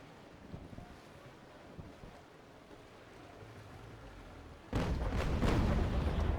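Ship cannons fire in the Naval Action sea battle game against the ship Cerberus: quiet wind and sea noise gives way to a sudden heavy, rumbling roar of cannon fire that carries on loudly to the end.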